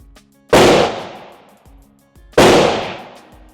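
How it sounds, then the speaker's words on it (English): Two loud, close pistol shots from a Springfield Prodigy that is failing to eject, each a sharp crack with a long decaying echo, about two seconds apart, alone without talk. "shoot it, failure to eject, and the slide doesn't even come back at all"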